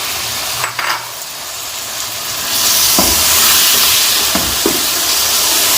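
Tomatoes and green chillies cooking in a large pot of chana pulao, giving a steady steam hiss that swells partway through, with a few short stirring clacks against the pot.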